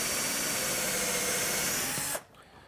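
A power drill whirs steadily at close range for about two seconds, then cuts off abruptly, leaving quiet room tone.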